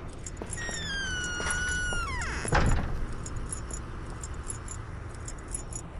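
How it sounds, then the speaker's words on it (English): A janitor's keys jangle in the White Day horror game, a brief metallic rattle mid-clip that follows a sweeping tonal game sound, then fades into quiet ambience with faint clinks. "If you couldn't tell, that's the sound of the janitor's keys."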